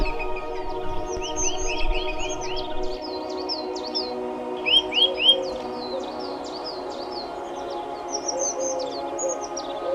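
A grey partridge calls, a series of shrill rising whistled notes repeated in short bursts over a faint steady background hum, fairly clear and close.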